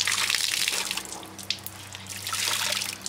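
A wet window-cleaning cloth is twisted to wring it out, giving splashy trickling water and drips, moderately faint and close, with a small splat partway through.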